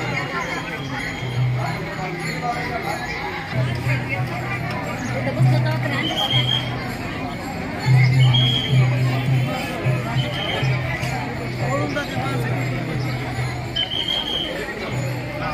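A dense crowd of devotees at the Wari pilgrimage to Pandharpur fills the air with a steady, continuous murmur of many voices, with a low hum beneath the chatter that swells and fades throughout.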